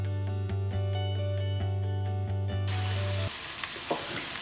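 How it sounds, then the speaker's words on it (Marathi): Onions frying in a pan toward light golden: a steady sizzling hiss comes in after a stretch of droning, tonal music at the start. "आतां आमी ऑनियन्स न्हू बरो फ्राय करुया अंटील लायट गोल्डन कलर."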